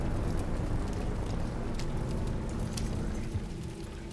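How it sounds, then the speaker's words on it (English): Steady, dense rain pours and spills into sewers in the video game Silent Hill 2 Remake, a continuous close hiss of water with scattered crackling drops throughout. No voices. "I hear the rain spilling into the non-existent sewers"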